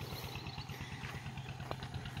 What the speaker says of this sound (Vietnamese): Bạn nghe tiếng máy nổ bịch bịch bịch bịch không? Đó, bà con là hút nước sông lên để tưới ruộng đó